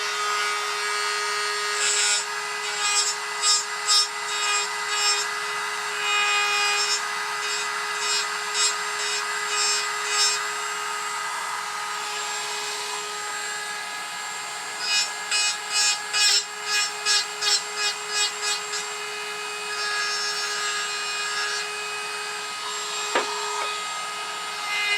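Dremel rotary texturing tool with a carving burr grinding into wood, a steady high whine with raspy bursts of cutting in rhythmic passes, close and alone.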